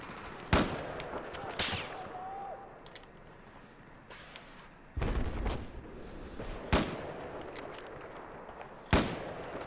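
Gunshots in the Battlefield 4 multiplayer video game: about six loud, isolated cracks spaced a second or more apart, some with rumbling tails, over quiet battlefield ambience.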